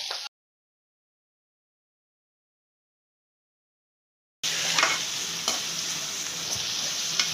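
Chopped carrots sauté in a pan for a potato masala, a steady close sizzle with light stirring scrapes that starts abruptly after a brief burst and a few seconds of silence.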